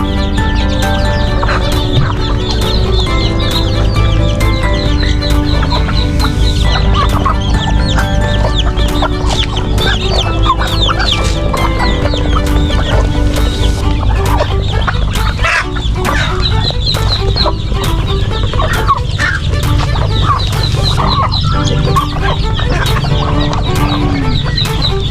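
A flock of chickens and many chicks clucking and peeping while they feed on ground chicken feed, with dense, loud and continuous chatter and overlapping calls throughout.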